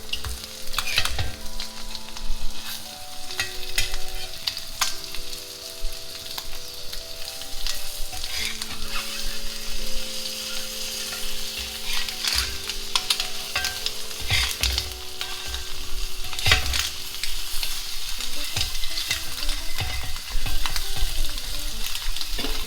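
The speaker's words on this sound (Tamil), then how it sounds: "ரெண்டு பக்கமே வந்து நல்லா ஃப்ரை ஆயிடுச்சு" A street-style egg seasoned with turmeric and chili powder fries in a pan, a loud continuous sizzle punctuated by repeated scraping and tapping of a spatula, with background tones running throughout.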